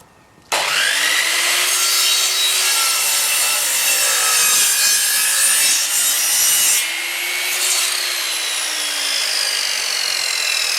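Timber sawn to trim the roof angle on a bench house build, a loud close power-saw cut that starts abruptly and whines steadily through the wood, dipping slightly partway before carrying on.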